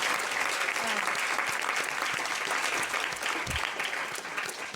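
Steady, full applause filling a regional council chamber, continuous and even throughout, with no talk standing out over the clapping.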